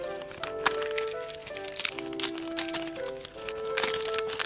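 Crisp crinkling and snapping of a thin, dry sheet of nori seaweed being folded by hand, several sharp cracks scattered over a few seconds, close up.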